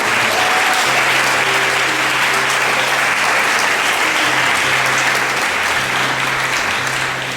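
A church congregation at a Sunday worship service applauds the Lord, sustained loud clapping from a crowd filling the whole stretch without pause, with a low hum running underneath.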